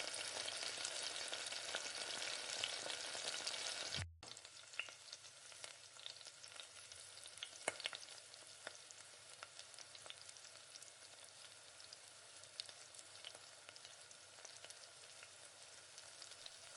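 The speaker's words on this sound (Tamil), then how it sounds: "இப்போ இஞ்சி பூண்டு பேஸ்ட்டை இந்த எண்ணெயிலே போட்டு நல்லா வதக்கிக்கோங்க" Ginger garlic paste frying in hot oil gives a loud, dense, steady sizzle that cuts off abruptly, then resumes as a softer crackle with scattered pops and occasional stirring clicks.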